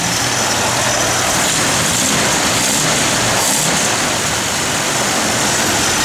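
A 1964 Rambler American 330 idles steadily close by, a constant low engine rumble with broadband noise and no pauses throughout.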